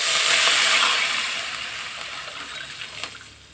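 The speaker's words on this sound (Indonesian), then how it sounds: "ini kita masukkan untuk airnya ya" Water poured into a cooking pot that holds browned, fragrant aromatics, ahead of adding chicken for a broth; a steady hissing gush, loudest in the first second, then easing off and continuing more quietly with small splashes.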